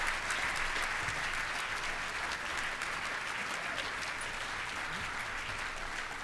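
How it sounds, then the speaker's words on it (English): A gala crowd at an alumni association's 60th anniversary event applauds an honoree, a steady, even wash of many hands clapping from some distance, fairly quiet and sustained throughout with no speech over it. "he deserves to receive a rightful round of applause"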